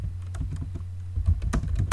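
Typing on a computer keyboard, a rapid run of close, crisp key clicks with slightly louder strokes near the end over a low steady hum.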